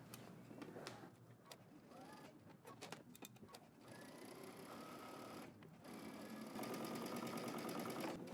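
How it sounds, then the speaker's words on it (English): A sewing machine stitches the hem of a dress sewn with built-in power mesh, a close, steady mechanical whir with a fast ticking rhythm that stops and restarts, quiet and alone. "And now I'm just going to sew along my hem."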